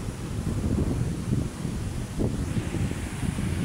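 Strong sea waves churn in Manila Bay, a steady, dense roar of surf mixed with gusting wind that buffets the microphone, continuous and fairly loud with no voices.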